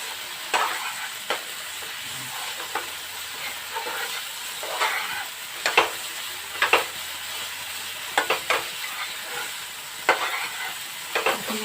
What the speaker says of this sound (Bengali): এখন মশলা আমার ভাজা প্রায় হয়ে এসছে